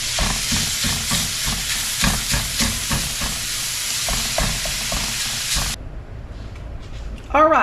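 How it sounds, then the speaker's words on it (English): A pound of sausage browns in a skillet, giving a dense, loud sizzle with rhythmic scraping and stirring strokes, then the frying sound fades near the end as a voice speaks. "And this is a pound of sausage. And we're going to brown it up and get it out of here and into the skillet."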